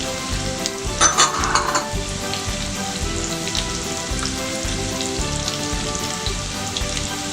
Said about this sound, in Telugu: వీటితో పాటే కాజు కిస్మిస్ కూడా వీటితో పాటే వేయించుకోవాలి